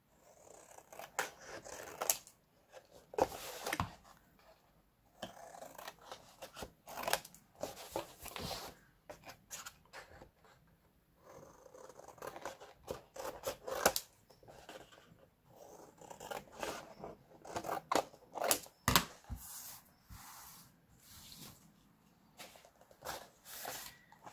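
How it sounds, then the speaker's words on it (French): Scissors snip paper corners for a handmade floral photo album, a series of crisp irregular cuts close by in a quiet room, with pauses between bursts. "Et après pareil, je coupe. Je coupe au niveau des coins."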